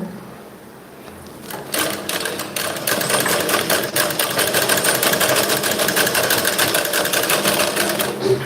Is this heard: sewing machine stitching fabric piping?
yes